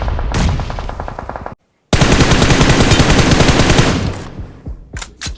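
Automatic weapon fire in the PUBG Mobile battle royale game, long loud rapid bursts of close shots broken by a brief silence, ending with a few separate single shots and no voices over them.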